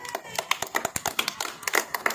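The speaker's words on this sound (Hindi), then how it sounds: "ताली बजाओ इसके लिए" Schoolchildren clap for a classmate during an online street-teaching class, a quick burst of scattered, uneven hand claps with voices mixed in.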